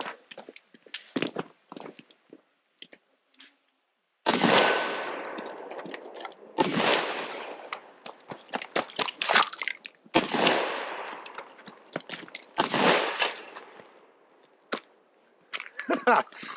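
A Remington 870 pump shotgun fires a string of loud, close blasts spaced a few seconds apart, each followed by the clack of the action being worked, with someone talking in the quiet moments.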